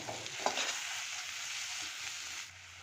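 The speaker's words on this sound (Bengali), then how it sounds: "এই যে এবার এটাকে ভালো করে মিশিয়ে নেব" Tangra and pona fish with a Kashmiri chilli spice paste sizzle loudly and steadily in a frying pan as they are stirred, with a faint scrape early on, before the hiss eases off near the end.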